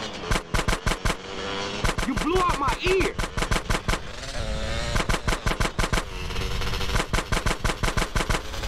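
Rapid automatic gunfire in the GTA San Andreas video game, loud, close bursts of machine-gun shots in repeated rhythmic volleys with short pauses between them, alongside game vehicle and engine noise.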